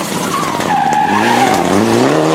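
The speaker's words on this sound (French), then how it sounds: "Beau duel entre Mitsubishi, Patrick Rouillard face à Arnaud Gauthier." Mitsubishi rally cars duel on a stage of the 2011 Rallye Lyon Charbonnières, loud tire skidding and squealing over a rising engine note, close and continuous.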